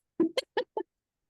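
Four short, squeaky chirps from a small pet parrot, close by and fairly quiet, spaced evenly over about a second with nothing else around them.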